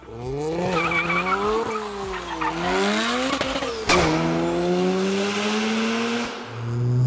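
A 650 HP Mazda RX-7 driven hard with a loud engine note that climbs and drops through the gears, tires squealing, and a sharp bang partway through before the engine keeps pulling.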